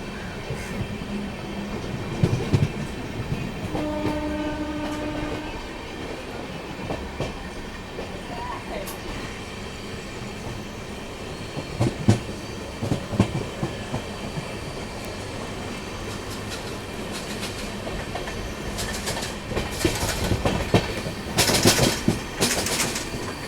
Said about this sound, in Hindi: तो ये है हज़रत निज़ामुद्दीन एर्नाकुलम दुरंतो एक्सप्रेस